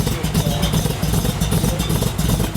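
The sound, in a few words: 1976 Chevy van engine idling with Comp Cams cam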